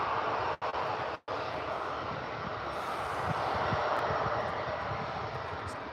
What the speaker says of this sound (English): Got your A319 heading out very, very shortly, just taxiing there.